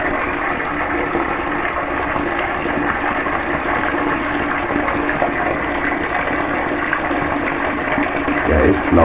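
Hot water runs from a tap as a loud, steady, broadband rush that fills the whole stretch, with a slight change near the end.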